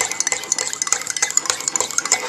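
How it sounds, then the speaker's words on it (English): A fork beats four raw eggs in a bowl, breaking up the yolks, with quick rhythmic clinks and wet stirring taps running steadily throughout, close and fairly loud. "we're going to break the yolks up here"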